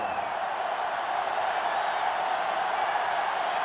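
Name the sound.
stadium crowd noise in NCAA Football 2005 video game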